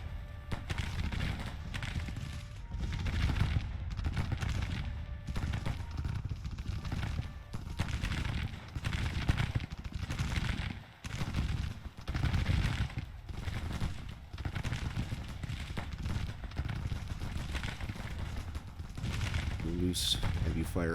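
Troops firing on the enemy in the strategy game Grand Tactician, a continuous rattle of distant musket volleys and scattered shots, with voices talking over much of it.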